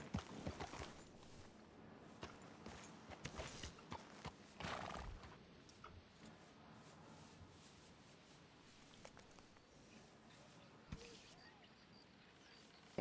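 Horses in the Red Dead (RedM) game setting clop and shuffle with scattered hoof thuds and rustling, with a neigh suggested amid the faint, steady background, mostly soft and fading as it continues.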